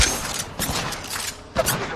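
Rapid bursts of gunfire in a first-person shooter video game, loud and close, arriving in dense clusters with a brief lull before another sharp volley.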